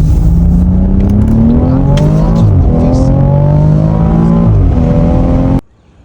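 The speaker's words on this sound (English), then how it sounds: "I'll give you a little acceleration clip." A six-year-old BMW with 355 horsepower accelerates hard, its engine note rising steadily through the gears in a loud, continuous pull that cuts off abruptly near the end.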